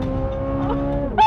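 A Chevrolet Corvette Z06 V8 engine holds a high, steady revving whine that shifts pitch near the end, loud and close.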